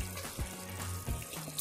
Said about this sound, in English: so it is boiling now, and it's at medium heat